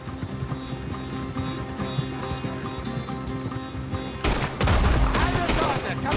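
Red Dead Redemption 2 game audio with music and voices, then a sudden loud burst of rapid gunfire and sharp shots that keeps going through the final seconds.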